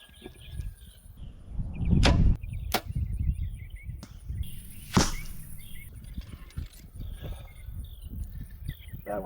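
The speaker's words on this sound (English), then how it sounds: "That one hit left and low. Arrows are flying good." Arrows from a compound bow on a windy 100-yard range whip through the air with sharp, quick releases and impacts, a few distinct cracks against steady wind noise, while someone talks softly at times.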